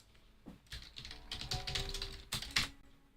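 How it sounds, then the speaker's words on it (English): Fast typing on a computer keyboard comes through as dense bursts of close keystrokes with brief pauses and no voices. "Oh, typing too fast."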